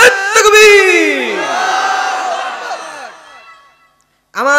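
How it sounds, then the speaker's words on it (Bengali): A large crowd at a religious sermon gathering roars a drawn-out chant of the takbir in unison, loud and sustained before tapering off, then a voice starts up again at the end. "আপনার তাকবীরের ধ্বনি যেন আল্লাহর আরশে আজিম পর্যন্ত চলে যায়"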